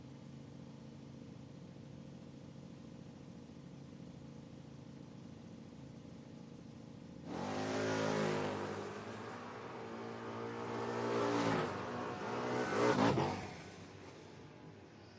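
A 1988 Mustang and a 1979 Malibu at a footbrake drag race: a low idle rumble, then loud engines roaring and revving hard in several surges before fading.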